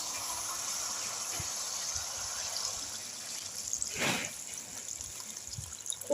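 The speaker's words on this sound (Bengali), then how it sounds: "এবার আমি জল দিয়ে দেবো" Water poured into a hot pan of Bengali-style chicken kosha with potatoes, with a steady sizzling hiss and a brief louder gush of liquid partway through, close and without talk.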